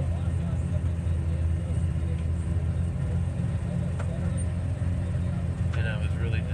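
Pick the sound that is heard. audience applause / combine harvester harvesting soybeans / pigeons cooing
combine harvester harvesting soybeans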